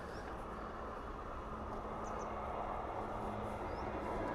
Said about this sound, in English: That train's just heading into Chippenham.